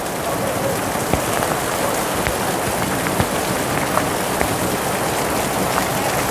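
Heavy rain pours steadily onto surfaces during a downpour that floods the streets, a dense unbroken hiss with scattered sharper drips and splashes up close, no voices.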